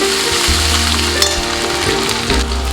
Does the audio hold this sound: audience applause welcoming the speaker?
no